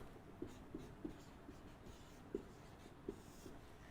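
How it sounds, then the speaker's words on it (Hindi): Hand writing during a history lesson, a series of soft, close pen or chalk taps and strokes at irregular intervals against a quiet room. "अभी मैं फरीद लिख रहा हूं।"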